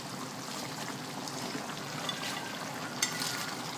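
Cabbage added to a stir-fry of pork tenderloin with vegetables, a faint steady hiss and sizzle from the pan with a light clatter near the end.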